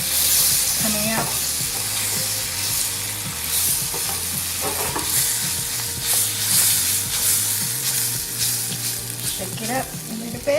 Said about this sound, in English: it down to medium heat and I'm going to stir it